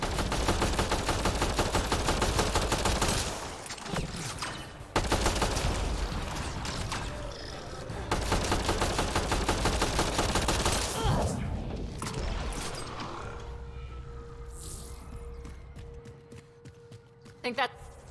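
Rapid bursts of gunfire from a gun in the sci-fi shooter Mass Effect Andromeda, loud dense volleys in three long stretches broken by short pauses, then a quieter hum with scattered pops near the end.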